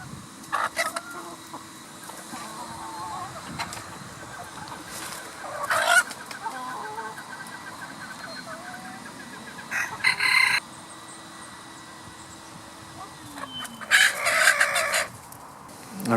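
Chickens in a flock, including an aggressive blue mottled Ancona bantam hen, cluck in scattered short bursts over a quiet background with a steady low hum, a few louder squawks standing out.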